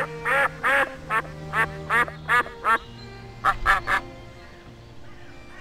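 Ducks quacking at a park pond, a string of loud, close nasal quacks in quick bursts, followed after a pause by a few more quacks over a low steady background hum.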